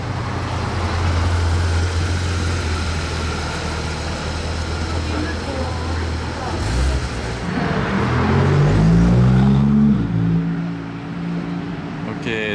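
A Porsche GT3 RS supercar in Iceberg livery passes on a Monaco street at night, a loud engine rumble rising and shifting in pitch over steady traffic noise, with voices talking over it.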